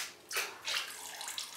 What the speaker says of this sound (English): So you pour like that, let the drips go down